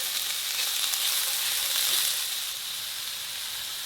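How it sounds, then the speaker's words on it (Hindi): Onion, chicken and capsicum sizzle steadily in a hot pan, a close, even frying hiss that softens slightly toward the end, with no talking. "प्याज को बस हल्का सा सौते करना है, इसका कच्चापन बस ख़त्म हो जाए।"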